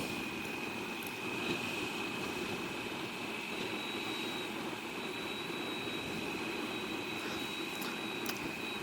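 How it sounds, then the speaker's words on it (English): Steady broadband wind rush from riding a Yamaha Super Tenere motorcycle at moderate speed during break-in, continuous and even throughout with a faint whine on top. "So wind noise is not bad."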